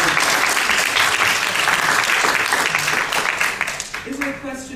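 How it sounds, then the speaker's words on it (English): Audience applause for presenters fills a conference room: dense, steady clapping that holds loud for about four seconds, then thins and fades near the end as a voice begins. "I just want to give them another round of applause"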